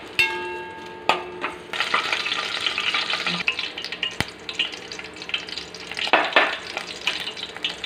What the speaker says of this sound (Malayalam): വെണ്ടയ്ക്ക ഒന്ന് വഴന്നിട്ട് നമുക്ക് ബാക്കി ചേരുവ ചേർക്കാം